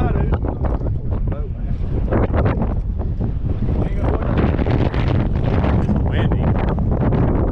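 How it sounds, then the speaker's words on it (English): Strong wind buffets the microphone in a steady roar, with water and boat noise mixed underneath throughout, while catfishing. "Windy."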